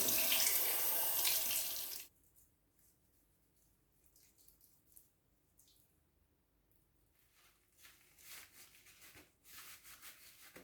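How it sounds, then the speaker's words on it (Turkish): Water runs loudly from a tap for about two seconds, then stops, followed by quiet wet rubbing and splashing as a face is washed with gel and rinsed, with intermittent soft splashes toward the end. "Yüzümü bu Nivea'nın jeliyle yıkıyorum. Hemen yıkayayım."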